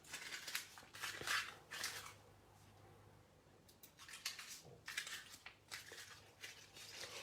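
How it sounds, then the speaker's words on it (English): Heavy-duty, cardstock-thick paper being crumpled by hand, with repeated stiff crackling and crunching bursts coming in uneven waves, close and alone. "I'm going to crumple it all up."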